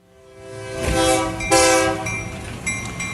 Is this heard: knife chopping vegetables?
no